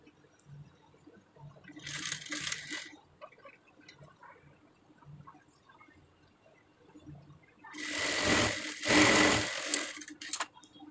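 A sewing machine stitches a piping nightie in two close, rapid whirring bursts, a short one early and a longer one near the end, separated by quiet handling of the fabric.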